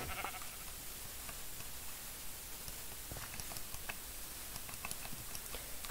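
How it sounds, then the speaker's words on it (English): Sheep bleat in the Minecraft video game against a dense, noisy background, with a few short calls scattered through a busy, steady wash of game sound. "So many sheep."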